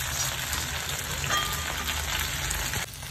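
Okra sizzles and crackles steadily in hot oil in a pan while being stirred, close and continuous, easing slightly near the end, with no voices.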